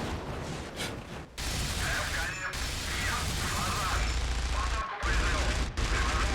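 Aircraft machine guns fire in bursts in IL-2 Sturmovik, rattling through much of the stretch, with dense rapid reports and brief pauses between volleys.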